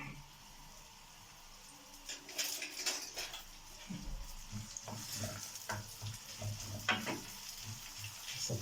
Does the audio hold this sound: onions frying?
yes